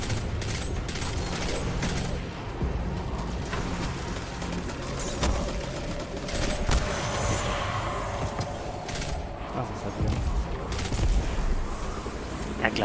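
Gunfire in the video game Destiny 2: scattered shots and mechanical clanks over game ambience, with faint voices under the action at moderate loudness.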